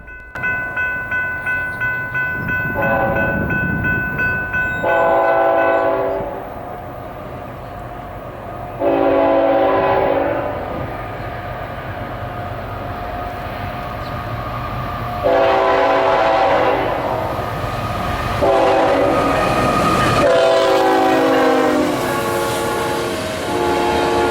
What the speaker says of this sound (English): Up next would be none other than Norfolk Southern 316